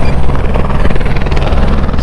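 Helicopter flying low overhead, very loud and close, its thudding rotor chop pulsing rapidly and continuously with a heavy engine roar and no speech.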